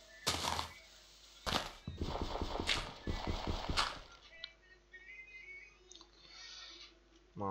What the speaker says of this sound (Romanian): Aici o să intre un cal.